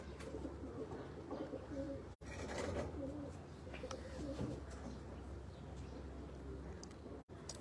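Steady low cooing of pigeons over a continuous outdoor background hum, several soft repeated coos blending together at moderate distance.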